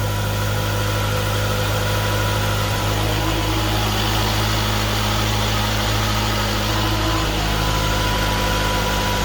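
A 2017 Jeep Cherokee engine idles in a steady, loud, close drone with a constant low hum and a slight shift in tone near the end, with no talking.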